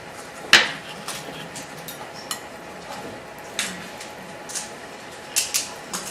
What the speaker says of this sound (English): Okay, so you're just going to stir all that up.